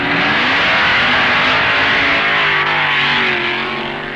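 Super Stock drag race cars launching down the strip at the 1969 NHRA US Nationals, a loud continuous engine roar with rising tones close by, fading slightly toward the end.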